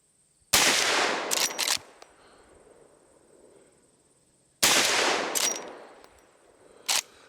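A Marlin 1894 .44 Magnum rifle fires twice at jug targets outdoors, each loud boom several seconds apart trailing a long rolling echo, followed by brief metallic clacks.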